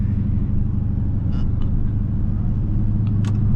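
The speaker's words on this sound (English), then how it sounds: "my boy was moving that Camaro, bro" A Chevrolet Camaro, tuned, runs fast down a highway, heard as a steady low road rumble and engine drone from inside a car, constant and close, with faint brief clicks over it.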